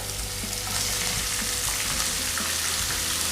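Onion, garlic and ginger sizzle steadily in hot oil for a Kerala chicken stew, a dense, continuous close frying hiss with faint stirring underneath and no talking.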